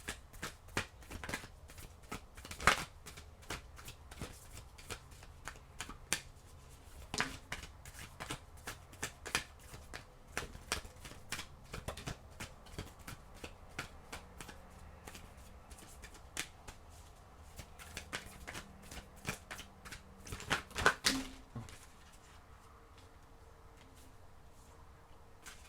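Tarot cards are handled and shuffled in a steady run of soft riffling slaps and flutters, with brief louder bursts near the start and again about three quarters of the way through, and no voice over it.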